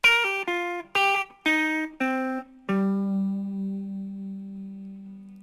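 A clean electric guitar plays a short blues lick of plucked notes, ending on a sustained ringing low note that slowly fades.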